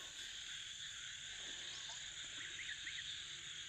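Frogs croak at night near a farm, a faint steady chorus with a few sharper calls over a low hum, distant and with no talking.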